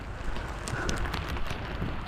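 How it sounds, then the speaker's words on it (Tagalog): Heavy rain falls steadily over rice paddies and garden plants in San Vicente, a dense, even wash of broadband patter with occasional sharper drops, continuous and fairly close throughout. "Malakas na ang ulan."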